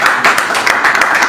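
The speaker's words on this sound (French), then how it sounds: "Est-ce qu'on peut applaudir" Audience applause at a Paris press conference for a Congolese musician, with close, loud, rapid clapping from a small group, uneven bursts of hand claps running for just over a second.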